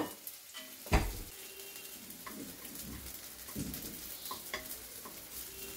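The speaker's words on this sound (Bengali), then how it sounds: "এটাকে একটুখানি গলিয়ে নেবো এই তেলের মধ্যেই" A few sugar grains melting in hot oil in a pan while cooking egg curry, giving a soft, steady sizzle close by, broken by a sharp clink of a utensil and light stirring scrapes.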